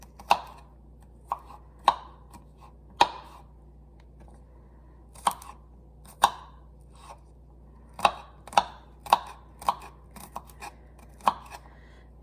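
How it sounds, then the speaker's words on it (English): A knife chops peeled garlic on a board in sharp, distinct strikes, single cuts at first and then quicker bursts, close up and clear over a faint low hum. "now that our garlic is peeled, we have to chop it into small pieces"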